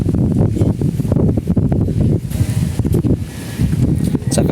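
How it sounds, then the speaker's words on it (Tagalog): Gusts of wind buffet the microphone with uneven rushing bursts, mixed with faint rustling, brief and close. "Sarap ng hangin."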